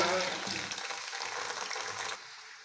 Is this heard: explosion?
no